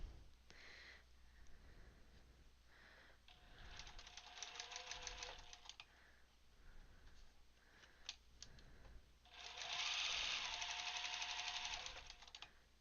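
A home sewing machine stitches quilt pieces 5B and 7B together, running straight over the pins, in bursts of rapid, even ticking that stop and start, with a louder, denser run near the end.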